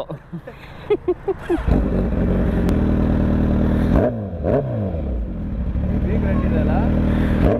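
A motorcycle engine revs up and settles into a loud, steady rumble, with a few sharp throttle blips partway through.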